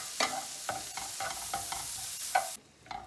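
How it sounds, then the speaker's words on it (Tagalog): A utensil stirs onion and garlic frying in a pan, giving a soft sizzle under repeated close scraping strokes at a steady rhythm before the sound drops away near the end. "Now we're gonna put all the garlic. Okay, I'm gonna put the half onion."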